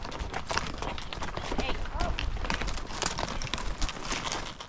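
Hooves of several horses on a horse drive clatter in a fast, busy patter as the pace picks up, mixed with rushing outdoor noise and some talk.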